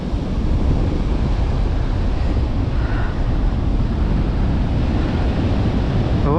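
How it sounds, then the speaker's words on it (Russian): Stormy winter sea on the Crimean shore, a heavy continuous roar of crashing surf with deep rumbling and wind buffeting the microphone, loud and close with no voices. "Вот оно, штормящее зимнее море."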